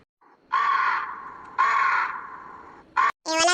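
A crow caws in a village, giving two long, harsh, drawn-out calls close by, followed by a short caw and the start of another loud call.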